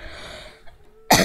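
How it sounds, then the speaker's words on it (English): A single sharp cough bursts out near the end after a brief quiet lull, close and loud. "Hopefully my coughing won't bother anybody."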